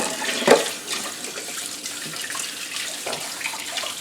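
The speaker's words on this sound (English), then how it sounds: "so right now I'm just rinsing them off." Tap water runs over boiled eggs in a kitchen sink, a steady close splashing stream with a brief clatter at the start and soft irregular knocks as the eggs shift under the flow.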